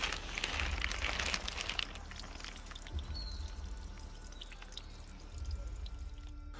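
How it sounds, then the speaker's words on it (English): Water flows through an ancient, artificially made channel near the Volansky dolmen, fed from an underground source and carrying hydrogen sulfide. It pours and trickles softly, louder at first and then settling into a quieter flow with faint drips, with no voices. "there's an ancient water channel that's clearly artificially made"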